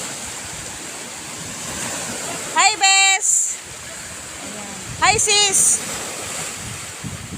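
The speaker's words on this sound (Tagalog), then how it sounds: "Napakalakas ng alon guys." Rough surf crashes and rushes with heavy wind buffeting the microphone, while voices call out briefly twice over the noise.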